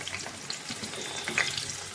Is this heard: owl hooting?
no